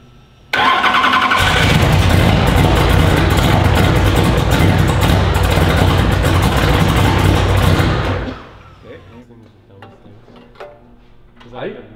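A Corvette engine fires up on its first start and revs hard, a loud roaring burst lasting several seconds before cutting off abruptly into quiet rattles and faint voices.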